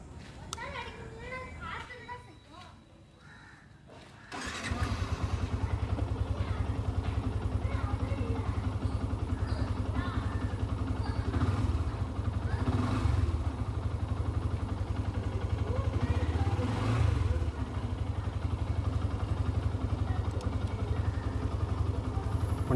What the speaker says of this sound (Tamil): இன்ஜினோட நோட் வந்து எப்படி இருக்குன்றதை கேளுங்க